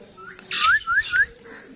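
A pet parrot in a village pigeon-breeding setup in Punjab gives a few short rising whistles and chirpy calls, close and fairly loud, over a quiet background.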